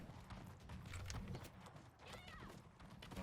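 A horse gallops in the medieval battle game Conqueror's Blade, with rapid hoof clip-clops drumming continuously at close range, some clattering noise mixed in and no voices.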